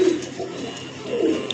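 Soft, low cooing of a Sialkoti flying pigeon close by over a steady background hum, with a faint high chirp near the end.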